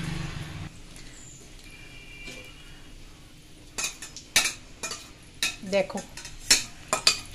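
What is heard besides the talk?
dried red chilies frying in oil, stirred in a pan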